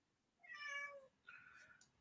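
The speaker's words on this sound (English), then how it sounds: "There's the kitty." A cat gives two faint meows, a longer rising one followed by a shorter one, soft and somewhat distant against a quiet room hiss.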